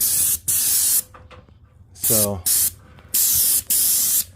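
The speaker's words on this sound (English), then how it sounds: "but I'm going to still spray it" A paint sprayer fires several loud, close hissing bursts onto stucco pop-outs, each bursting on and cutting off sharply. Between bursts someone speaks briefly.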